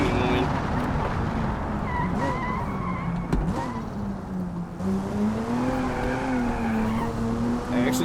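Turbocharged car engine in BeamNG Drive droning and whining steadily, with tire squeal as the car slides, loud and continuous throughout while someone talks over it.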